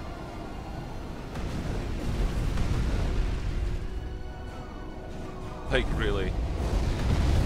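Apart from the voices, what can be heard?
bomber strikes exploding in the video game Supreme Commander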